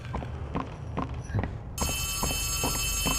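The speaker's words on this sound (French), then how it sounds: "Il y a un téléphone qui sonne." A telephone rings in the video game Poppy Playtime, a bright electronic trill that starts partway through and keeps going over repeated rhythmic thumps like running footsteps, with some voice nearby.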